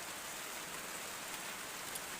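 Rain falls steadily on a rural Thai garden during the season's first downpour, a dense, even hiss of drops hitting surfaces, soft and continuous, with no talking.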